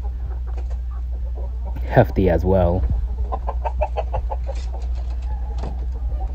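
Brooding hens cluck close by in repeated short clucks, one bird giving a louder drawn-out call in the middle, while someone speaks briefly over a low steady hum.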